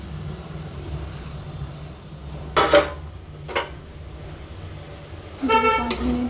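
A spoon knocks and scrapes against a pan in a few short bursts while soya chunks are mixed with spices, over a low steady background hum.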